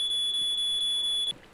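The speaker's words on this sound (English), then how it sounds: "get rid of the alarms" A smoke alarm in The Sims video game sounds a steady high electronic tone, loud and unbroken, before cutting off abruptly near the end.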